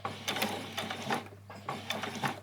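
A sewing machine sews a basting stitch on a child's dress, a quick mechanical clatter in several short runs with a brief pause in the middle, close and moderately loud.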